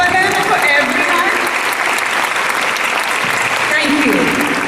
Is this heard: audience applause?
yes